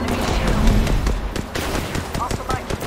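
Rapid automatic gunfire from a video game, a dense fusillade of close, punchy shots with a machine-gun rhythm, heard under excited speech from a player.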